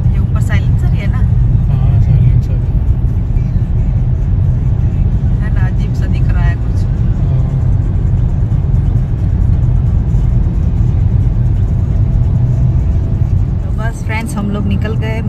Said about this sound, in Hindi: शाम का टाइम हुआ है तो ऑफकोर्स ट्रैफिक बहुत है रोड पर